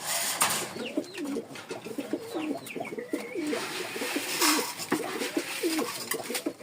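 Domestic pigeons coo in a repeated rolling rhythm at close range, a series of low throaty calls continuing steadily with faint background noise.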